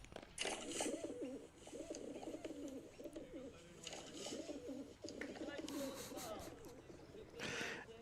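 A voice imitates pigeon cooing at a men's pairs lawn bowls state championship grand final, giving several low, throaty, rolling coos close up with a few breathy sounds between them.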